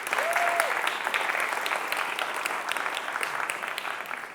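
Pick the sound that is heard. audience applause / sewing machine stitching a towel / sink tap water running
audience applause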